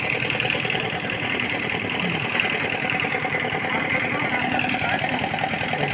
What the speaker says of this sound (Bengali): একজন ভাই বাইক লাগালো